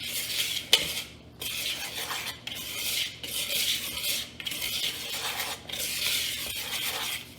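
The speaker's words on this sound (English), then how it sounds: "Then we're going to take a whisk. This one, and we're just going to mix our dry ingredients for a little bit." A whisk stirs dry bath bomb ingredients, cornstarch among them, in a bowl, giving repeated scratchy, airy swishes that swell and fade in steady strokes about once a second, close and fairly loud with no talking.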